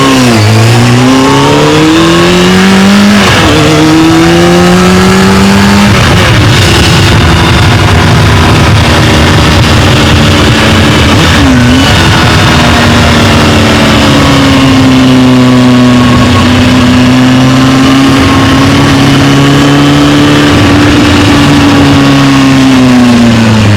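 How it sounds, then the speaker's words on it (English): Motorcycle racing video game engine sounds whine loudly and continuously as the bikes rev up and ease off, the pitch rising and falling in long sweeps. No voices are heard. "Who will win this motorcycle racing game?"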